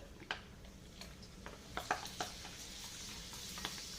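Rava (semolina) sticks frying in oil, a soft continuous sizzle with scattered light ticks and pops, fairly quiet and with no talking.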